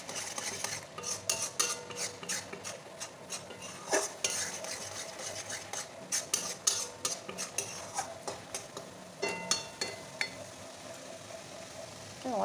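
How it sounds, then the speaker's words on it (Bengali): A thickening mango kalakand mixture is stirred in a pan, giving repeated scraping and clinking strokes of a utensil against the metal in an uneven rhythm, close and moderately loud, with faint background noise and no talk. "এটা আরেকটু ঘন করে নেবো, আরেকটু নেড়ে নেবো।"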